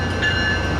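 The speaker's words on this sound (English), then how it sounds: "here comes your departing northbound train" A northbound passenger train departs Fort Lauderdale Airport Station at Dania Beach, Florida, heard as a loud, steady rumble and rolling rail noise with a faint tonal ring above it.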